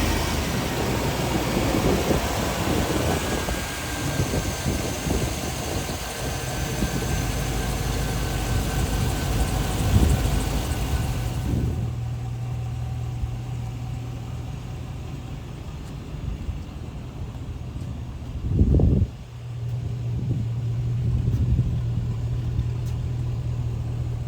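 A 2004 Hummer H2 idles with a steady low rumble, loud at first and then quieter and more muffled after the midpoint, with a couple of brief thumps near the end.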